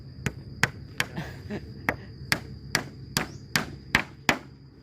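Roughly a dozen sharp hammer blows land at a steady, even pace outdoors in a rural village setting, close and clear, with no talk over them.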